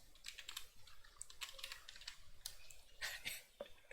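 Fast, irregular typing on a computer keyboard, close and steady, with clusters of key clicks and no talking.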